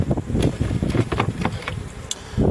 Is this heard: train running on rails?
no